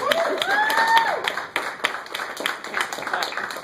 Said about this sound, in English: Can we get a round of applause for the Elder Evans?